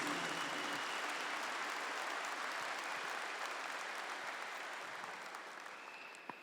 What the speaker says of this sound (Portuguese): Vamos aplaudir os casais e as famílias